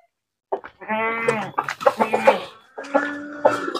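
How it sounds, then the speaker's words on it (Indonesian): Goats in a rear farm pen, a mother and her kid, bleating loudly and close by in several drawn-out, wavering calls with short gaps between them. "Kambing belakang ada 2 ekor. 2 ekor induk sama anak."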